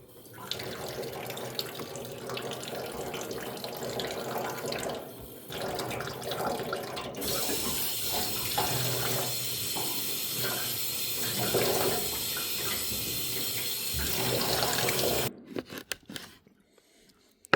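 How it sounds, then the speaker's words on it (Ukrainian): Running tap water pours steadily over freshwater fish in a sink, the stream shifting in tone as the pieces are moved and rinsed, then cutting off near the end. "Під проточною водою промив."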